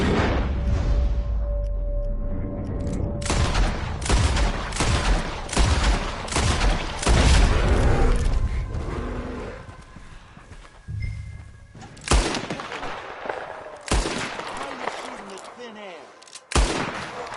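Gunfire in Red Dead Redemption 2, a string of sharp shots and heavier bursts that come thick at first and then in sparser loud cracks, with game voices calling out in between.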